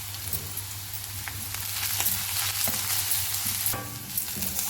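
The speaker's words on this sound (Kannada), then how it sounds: "ಇದು ಲೈಟ್ ಬ್ರೌನ್ ಆಗೋ ತನಕ ಈರುಳ್ಳಿನ ಫ್ರೈ ಮಾಡ್ಕೊಳ್ಳೋಣ" Onions and curry leaves frying in a pan for jeera chicken masala, a steady crackling sizzle with occasional stirring scrapes, close and fairly quiet.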